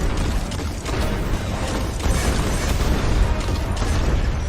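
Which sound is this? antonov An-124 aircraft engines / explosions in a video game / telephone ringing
explosions in a video game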